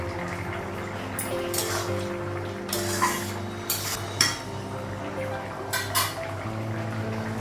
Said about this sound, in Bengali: ভাতটা হয়ে গেছে, নামাবো। ঢাকনাটা উঠাবো।